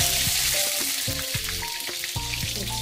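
Curry leaves dropped into hot mustard oil with fenugreek seeds, crackling and sizzling loudly and steadily, with sharp pops and spatters breaking through the constant fry noise.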